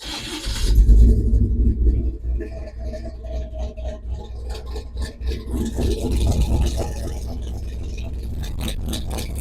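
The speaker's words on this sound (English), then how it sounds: "I forgot how good this truck sounds" A built-up small-block Chevrolet squarebody pickup truck engine rumbles steadily with deep low-end idle, rising briefly as if revved, then settling; close and loud throughout.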